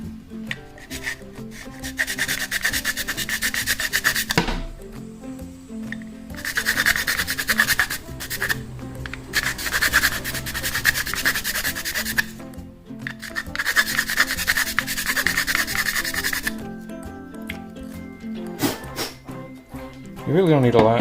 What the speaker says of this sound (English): it's soft plastic, so you see, just sand a little bit down